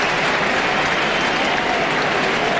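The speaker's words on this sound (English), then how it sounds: "the crowd will be going nuts, we suppose, in a moment here as Livan Hernandez gets ready to leave" Baseball stadium crowd at a 2000 NLDS game between the New York Mets and San Francisco, cheering and applauding as the pitcher leaves, a dense, steady roar of clapping that fills the whole stretch with no distinct voices.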